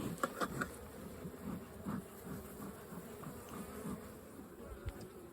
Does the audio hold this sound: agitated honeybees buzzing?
yes